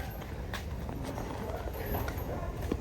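Horse hooves clip-clop in a loose, irregular rhythm at moderate distance, with faint ambient noise around them.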